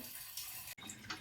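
Tap water runs steadily into a pot in a kitchen while mutton is cooked for castradina, a soft continuous splash with a brief break partway through.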